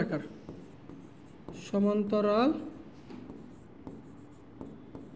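Chalk or marker taps and strokes across a board during a higher-math lesson on straight lines, a series of quick close ticks, with a brief voice sounding in the middle.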